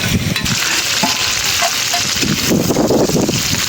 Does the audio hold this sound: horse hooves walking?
no